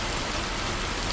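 Steady continuous rain falling in the town of Kirandul, a dense, even wash of noise with no pauses, close and moderately loud, no voices.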